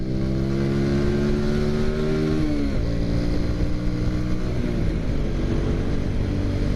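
An old motorcycle engine drones steadily up close while riding uphill, its pitch dropping as the rider shifts gear partway through, then continuing under load.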